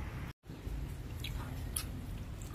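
Crunchy fried tikoy being chewed, a few faint close crisp bites and mouth crunches in a quiet room, with a brief dropout near the start.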